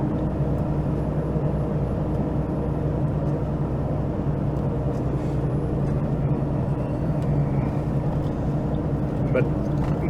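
Heavy truck engine held back in seventh gear on steep mountain Highway 14A after losing air pressure, a steady low rumbling drone throughout with no clear speech over it.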